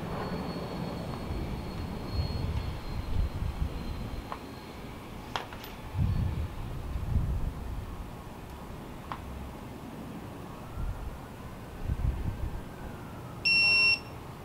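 A torque wrench set to a 90 target beeps while an N54 engine's oil pan bolt is tightened in one smooth pull, giving a short, fairly clear electronic beep near the end amid quiet workshop background noise.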